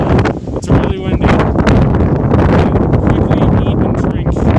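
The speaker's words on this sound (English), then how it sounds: "the climbing course is getting wind gusts of like 45 miles an hour up here" Strong wind gusts of around 45 mph on the Mount Fuji climbing course, a loud continuous buffeting roar over the microphone with surging bursts, drowning out other sound.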